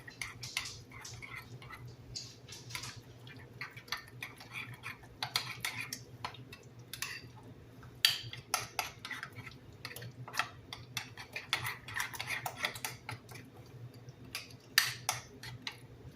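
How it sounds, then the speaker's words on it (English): Ground burger meat being mixed with garlic powder in a bowl, giving soft, irregular clicks and light scraping taps close by, with no talking. "Now we're going to give this a mix and mix it all together."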